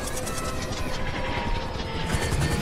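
A helicopter in GTA V drones with a dense, continuous rotor and turbine roar, steady and close, with a faint crash-like clatter near the end.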